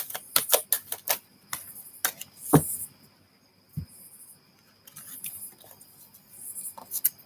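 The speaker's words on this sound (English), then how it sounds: "You saw me shuffle." Tarot cards shuffled by hand: quick crisp riffles and snaps in bursts, close and clear, separated by short quiet pauses.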